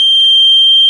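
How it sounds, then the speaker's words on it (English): A microwave radar sensor smart switch for LED light control sounds its beeper: one steady, loud, high-pitched electronic tone held unbroken through the whole second, with nothing else behind it. "it immediately turns on the beeper"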